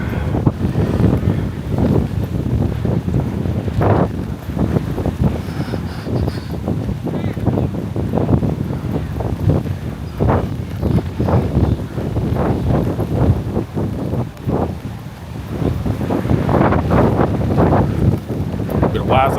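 Wind blows hard across the microphone on a street walk in Pattaya, a continuous rough rumble with gusty bursts throughout, while someone talks over it.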